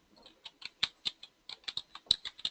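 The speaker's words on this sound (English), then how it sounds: "I guess you're typing right now, Bill" Keys on a computer keyboard are tapped in an irregular run of about a dozen sharp, close clicks with brief pauses, heard alone in a quiet room.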